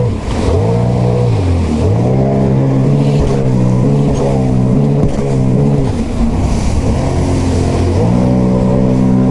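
A Sea-Doo Spark jet ski engine running on a lake, loud and close, holding a steady droning whine that rises and falls as the throttle is eased and opened, with no talking over it.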